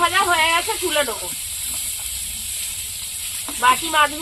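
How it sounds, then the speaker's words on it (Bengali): River fish fry in hot oil with a steady, close hiss and sizzle that fills a pause between spoken phrases at the start and end. "বাকি মাছগুলো ভেজে নেবো।"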